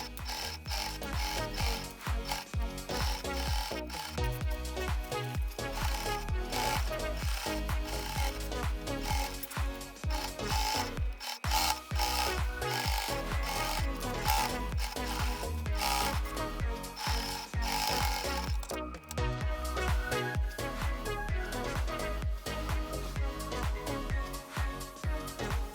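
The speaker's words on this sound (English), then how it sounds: "we will do a top stitching all around the bag's opening" A sewing machine runs top stitching around a bag's opening in a steady, continuous mechanical whir with a rapid needle rhythm, close and even for the whole stretch, with no talk.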